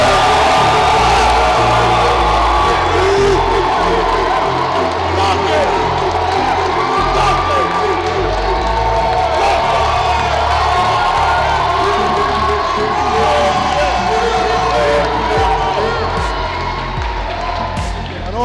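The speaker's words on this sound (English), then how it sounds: "give him a loud cheer now" A wedding crowd cheers loudly for the groom, a sustained roar of shouting, whooping and hollering that stays dense and unbroken from start to finish.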